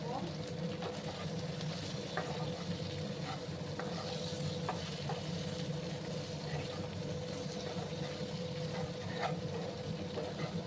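Okra and salt are stirred in a frying pan, a quiet steady sizzle under faint scraping and clicking of the spoon against the pan, with no voices.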